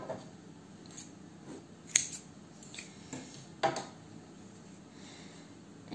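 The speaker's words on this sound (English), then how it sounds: "you can snip off your end there" Scissors snip off a crochet yarn end, a few quiet, crisp cuts and small clicks scattered over several seconds, close up against a hushed background.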